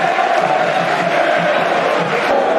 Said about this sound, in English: you can hear the applause for Jed